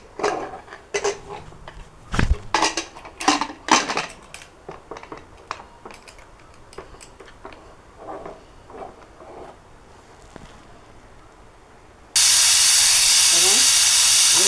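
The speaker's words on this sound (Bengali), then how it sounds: "এখন আমি 2টা সিসা পর্যন্ত অপেক্ষা করব।" A pressure cooker holding hilsa fish head with bottle gourd sits after scattered kitchen clatter and knocks. Near the end it bursts into a loud, sustained steam hiss with a rising whistle.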